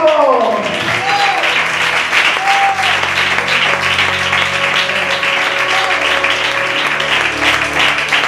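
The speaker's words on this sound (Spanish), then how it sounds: "¡Aplaude para Dios, por favor!" A church congregation applauds for God during a sermon, loud continuous crowd clapping with sustained keyboard notes and a few voices underneath.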